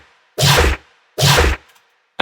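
A raw dubstep bass synth without effects fires two loud, gritty, wobbling hits with a deep low end, separated by silence, then the start of a third.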